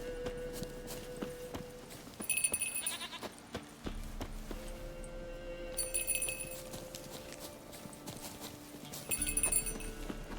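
Horse hooves clip-clop steadily alongside repeated goat bleats in The Witcher 3, with soft game music tones underneath and no talking.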